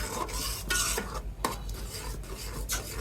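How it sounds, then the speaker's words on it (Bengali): Chicken roast masala with garlic paste and green chilies is stirred in a pan, a steady run of scraping and clinking spoon strokes against metal with a faint sizzle underneath, close and moderately quiet. "ভালো করে নেড়ে একটু মিশিয়ে নিচ্ছি"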